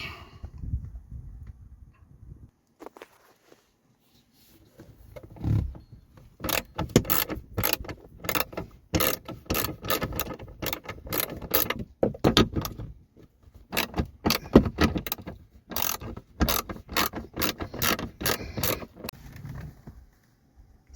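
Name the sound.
ratchet removing two 7mm bolts from car panel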